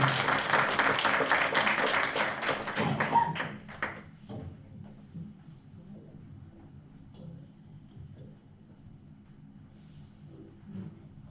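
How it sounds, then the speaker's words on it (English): Audience applause at a Python meetup, a loud burst of clapping from a room of people lasting a few seconds, then fading into quiet murmurs and shuffling. "let's give Owen a round of applause."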